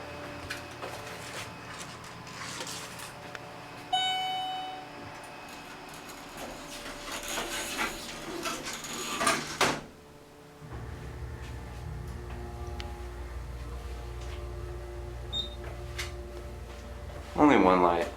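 Amtech elevator at Cupertino City Center running, with low mechanical hum, clunks and sliding rumbles of the doors and car, plus a brief chime near the end; voices talk over it.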